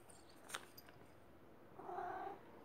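A hungry Maine Coon cat gives a single soft, drawn-out meow near the end, preceded by faint clicks in a quiet room.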